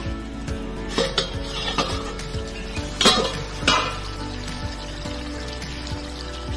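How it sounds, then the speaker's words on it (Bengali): A cooking pot lid coming off over boiled potatoes and cauliflower, with a few close metallic clanks and clinks standing out against a steady background hum, loudest in a pair of sharp rattles partway through. "ঢাকনাটা খুলে নেব।"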